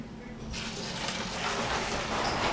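Liquid pours over the lip into a home-brewing fermenter for a Coopers Draught kit, a soft trickle that swells into a steady gushing splash as the flow builds.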